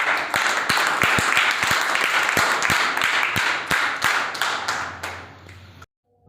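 Loud, sustained audience applause at a CWT awareness seminar in Uttar Pradesh, many hands clapping together for about six seconds before cutting off abruptly.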